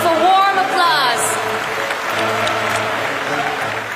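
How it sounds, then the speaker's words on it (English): Warm audience applause greets Reverend Moon and his wife as they enter, a dense steady clapping that fills the hall from start to finish, with faint crowd murmur and a brief announcer-like voice early on. "Please welcome them with a warm applause"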